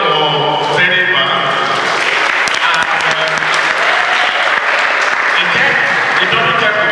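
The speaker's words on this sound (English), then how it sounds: "Please clap for Zenith Bank." Audience applause at a Zenith Bank financial literacy presentation at James Hope College, steady dense clapping from a large crowd filling the whole stretch, with some voices mixed in.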